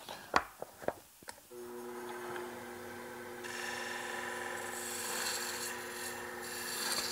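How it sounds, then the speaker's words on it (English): A wood-turning gouge cuts a goblet on a lathe, giving a steady rasping, scraping hiss with a sustained hum beneath, after a few sharp knocks at the start. "I'm going to make the cut downhill to the fibers and just push my handle away from me."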